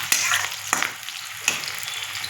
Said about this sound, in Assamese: এতিয়া দি দিছোঁ পিঁয়াজ ব্ৰাউন কালাৰ গল্ডেন কালাৰ হোৱাত লাগি মই ভাজি ল'ম